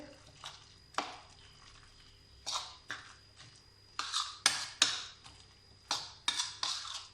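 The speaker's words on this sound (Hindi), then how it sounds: "इनको हम अच्छी तरह मिक्स कर लेंगे।" Two eggs being mixed in a bowl, irregular close scraping and tapping strokes that speed up into rapid bursts toward the end, with a faint steady hum underneath.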